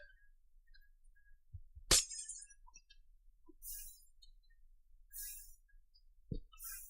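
Glass blocks break in Minecraft with one sharp, bright shatter followed by several shorter crisp breaking sounds spaced a second or so apart against a near-silent background.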